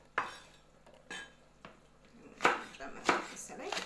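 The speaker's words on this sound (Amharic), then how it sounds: "ቃሪያችን እንግዲህ በፈለግነው መክተፍ እንችላለን።" A knife chopping green chili peppers, several sharp, separate cuts against a board, spaced unevenly and then quicker toward the end, close and fairly quiet, with a faint low hum beneath.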